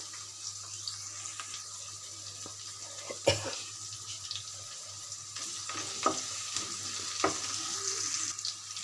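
Chopped onion with cinnamon, cardamom, cloves, mace and bay leaf sizzles steadily in a pan for egg korma, with occasional clinks and stirring knocks over a low hum.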